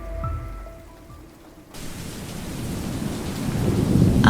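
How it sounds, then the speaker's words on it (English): A nighttime thunderstorm on Thanksgiving lashes a house with wind and rain. Deep thunder rolls under a faint hush, then a loud, dense wash of rain and wind surges in and keeps building. "Outside, the storm picked up, wind rattling the windows and rain splattering against the porch."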